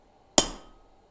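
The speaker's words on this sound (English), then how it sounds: "so go ahead and hammer there" A single sharp metallic strike of a hammer on hot metal on an anvil rings out, bright and close, with a quick ringing decay after near silence.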